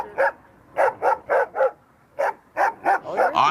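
Dogs bark repeatedly at mid distance during a street encounter, about nine sharp barks in uneven bursts with short quiet gaps between them.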